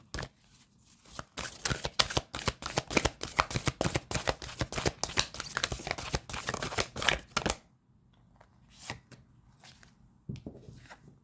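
Tarot cards being shuffled for a reading, a fast run of crisp riffling slaps for several seconds, then a few quieter scattered card flicks and taps.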